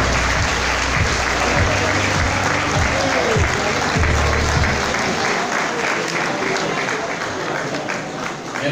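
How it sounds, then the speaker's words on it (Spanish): Loud, sustained applause from a crowd at a political recognition event for long-time party members in Caucete, many hands clapping evenly throughout while a voice speaks over it early on. "Un aplauso bien fuerte."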